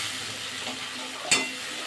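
Spices with ginger, chilli powder and a splash of water being stirred in a pan over low heat for a brinjal poppy-seed curry, giving a steady soft sizzle with one brief scrape of the spoon near the middle.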